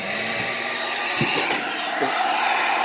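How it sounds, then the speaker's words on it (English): A hair dryer blows with a steady, loud whoosh, running continuously with no voices. "So we're going to get our hair dryer here."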